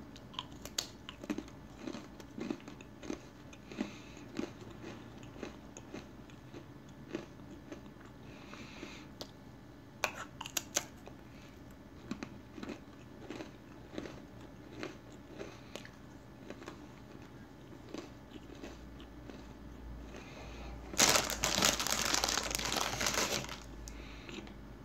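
Close crunching and chewing of plain salted crackers: a steady run of crisp bites and mashing, with a louder burst of crinkling packaging near the end.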